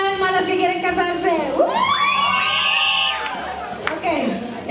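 Women at a wedding reception shout and cheer together in a loud crowd burst, rising whoops sweeping upward before fading back into lively chatter.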